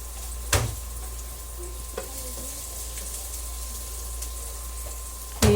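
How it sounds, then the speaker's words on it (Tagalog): Tomatoes sauté in a pan, giving a steady low sizzle beneath a constant hum, punctuated by a couple of sharp knocks from the utensil against the pan near the start and end, no talking. "gisa po natin ang kamatis"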